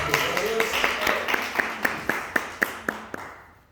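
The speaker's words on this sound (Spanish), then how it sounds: "Denle un aplauso al Señor por el ministerio de alabanza" A church congregation applauds the praise ministry, a dense patter of many hands with one louder clap keeping a steady beat, fading out toward the end, with some voices underneath.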